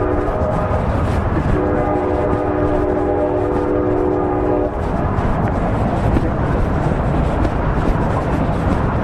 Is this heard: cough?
no